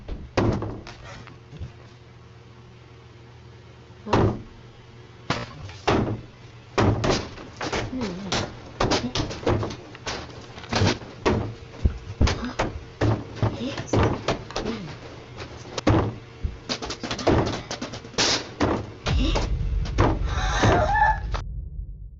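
Repeated sharp knocking on a door at night in a Japanese house, irregular bursts of raps, some loud and close, continuing through most of the stretch.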